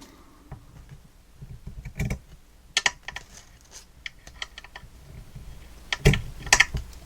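Scissors cutting paper for a mixed-media photo folio craft project, with a series of short crisp snips and rustles at close range, some sharper clicks near the end.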